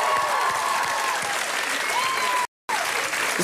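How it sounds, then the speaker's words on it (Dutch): Theater audience applauding the cast of a musical at a televised finale, a dense, even wash of clapping filling the hall with faint whistles, briefly cut out near the end. "Geef ze nog een keer applaus."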